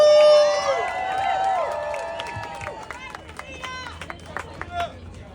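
An outdoor crowd at a labor protest at UT Arlington cheers and whoops for union leader Tevita Uhatafe, with scattered clapping and shouts fading over a few seconds.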